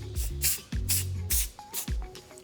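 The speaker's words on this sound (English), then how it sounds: "I went with 2 different brands of spray paint" Spray paint hisses from a can onto an AirPods Pro case in a series of short, close bursts, several separate sprays with brief pauses and faint handling noises between them.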